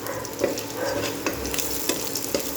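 Dal is poured into a hot pan that already holds sugar, in a dim kitchen, and it gives a steady, close sizzle with soft stirring clicks and splutters throughout.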